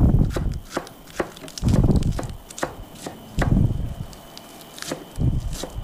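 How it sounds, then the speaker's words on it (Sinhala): A knife chops through spinach leaves on a cutting board in rhythmic bursts of several thuds and crisp cuts, with short pauses between each run of strokes; the sound is close and loud, and no one speaks. "අපිට පුළුවන් නිවිත කොළ ටික මේ වගේ කපා ගන්න"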